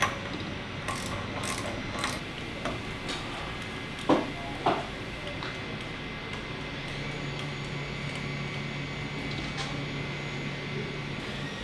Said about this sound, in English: This takes a 10mm socket to tighten this up.